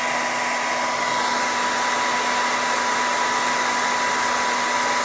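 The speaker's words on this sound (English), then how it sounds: "I will dry with my hair dryer real quick so that" A hair dryer runs steadily at close range to dry paint on a Valentine truck craft, a constant, loud whooshing hum with a steady motor whine and no pauses or talking.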